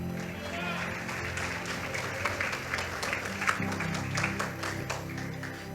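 Church congregation applauding together at an anniversary service, steady clapping from a crowd with voices mixed in, moderately quiet throughout.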